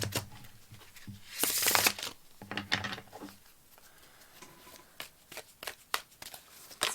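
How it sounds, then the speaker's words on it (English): Oracle deck cards being shuffled by hand, bursts of riffling and papery slaps in irregular clusters, close and crisp, with quieter taps and handling between. "remove these oracle decks there so I can shuffle a bit more"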